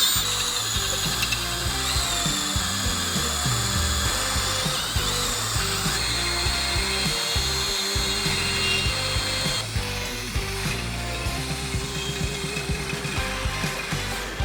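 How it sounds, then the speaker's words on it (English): A power drill whirs steadily and close by, drilling holes for a brush guard installation, its motor pitch wavering as the bit bites, with a rattling, ratcheting grind throughout and no voices. "Once you've got your holes drilled"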